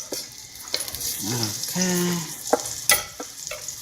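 Garlic sizzling in fresh oil in a pan, a steady frying hiss with a few sharp clatters and a brief spoken word over it.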